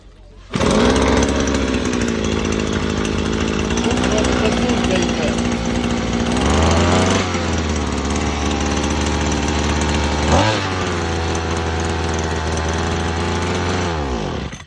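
A Texas TA 00153 petrol grass trimmer starts and runs: a loud, steady two-stroke engine drone close by that shifts pitch between idle and higher revs, with a voice talking over it.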